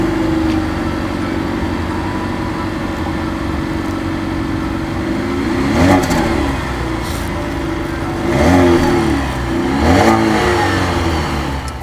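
A Cadillac CTS engine runs steadily at idle, with several loud revs swelling and falling back, nearby and without talk.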